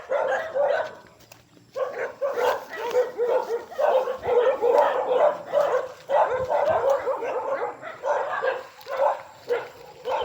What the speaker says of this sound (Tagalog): Daming aso dun, oh.